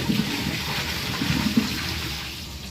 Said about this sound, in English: So let's see if it can flush.